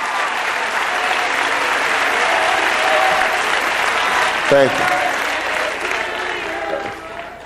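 Loud crowd applause fills a high school gym at a presidential campaign rally in Malvern, Pennsylvania, steady and sustained throughout, with a brief spoken thanks partway through.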